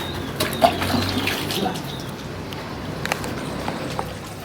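Water is poured over someone bathing outdoors in summer heat, an uneven splashing and trickling with a few sharper splashes, close and moderate, with birds chirping faintly in the background.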